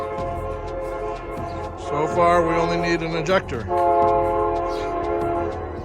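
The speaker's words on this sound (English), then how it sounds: "Don't mind the train" A passing freight train blasts a loud, sustained multi-tone horn for several seconds, rising then easing off while wheels rumble underneath, with someone talking nearby at a vehicle lot.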